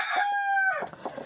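A brooding hen that has just risen off her eggs gives one drawn-out, strained call that trails off into a rougher squawk, heard close and alone.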